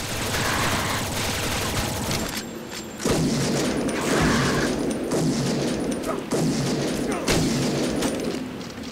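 Gunfire in the video game Shadowgrounds: loud, dense bursts of shots and thuds repeating steadily for the whole stretch, with a heavier, fuller barrage after the first few seconds.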